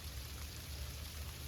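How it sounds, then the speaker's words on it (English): Sleet falls on a winter campsite as a soft, even hiss of pattering ice pellets, faint and continuous with no voices. "we're getting sleet right now"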